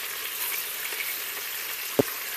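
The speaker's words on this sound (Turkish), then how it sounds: "sebzelerimi kızgın yağda kavurmaya devam edeceğim" Beef ribs and vegetables fry in hot oil, a steady close sizzle running throughout with one brief clatter near the end.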